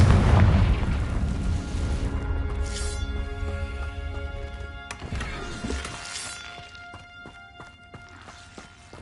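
A fire spell bursts into a heavy explosion in the Hogwarts Legacy video game, a loud low boom at the start that rumbles and fades under game music and ambient effects, with a second softer blast midway.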